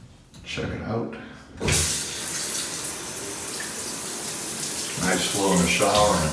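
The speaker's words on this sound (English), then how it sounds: "Nice flow in the shower, and it's a multiple selection shower head." Water starts up with a loud, steady hiss of running spray from a multiple-setting hotel shower head, continuing close by as a voice talks over it.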